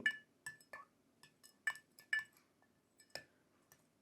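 A spoon clinks sharply against a glass again and again in an irregular rhythm while herbal bark powder is stirred into water. The taps are close and clear against near silence.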